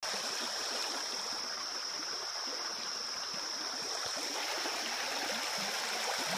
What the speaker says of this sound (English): I'm enjoying the running water.